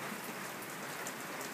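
Steady rain falls on a surface on a rainy day at Hollister, a dense, even hiss of drops close by with no voices.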